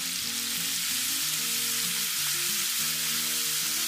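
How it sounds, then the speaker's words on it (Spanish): Raxo pork pieces fry in a pan as flour is sprinkled in, making a loud continuous sizzle with a steady frying hiss and low background tones throughout. "Y ahora le vamos a echar un poquito de harina."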